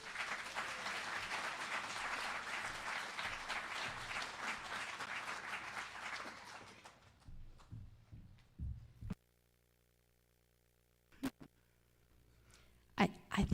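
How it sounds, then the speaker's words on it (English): An audience at a political meeting in Edmonton, Alberta, breaks into loud, dense applause that holds steady for several seconds. It then fades out abruptly into near silence broken by a few scattered knocks and small room noises. "I think we should give him a little extra applause"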